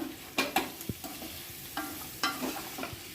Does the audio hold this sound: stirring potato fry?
yes